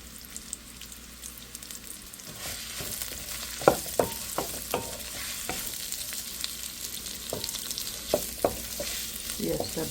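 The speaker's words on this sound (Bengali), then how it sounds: "তেলটা গরম হয়ে গেছে, আমি পেঁয়াজটা দিয়ে দিলাম।" Onion drops into hot oil for a Bengali prawn, potato and aubergine curry, and a loud sizzle builds after about two seconds, punctuated by sharp, repeated spatula scrapes and clinks.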